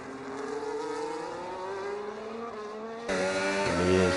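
Race cars in a sim racing game on the Singapore circuit, engines whining with rising pitch through the gears, then a sharp louder surge as another car closes in, heard alone without commentary.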